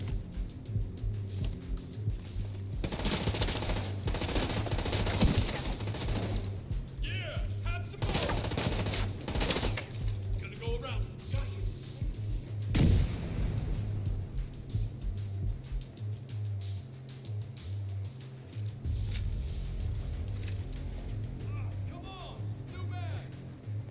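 Gunfire bursts and explosions in the video game The Division 2, rapid rifle volleys and booms in clusters, mixed under a player talking and keyboard clatter.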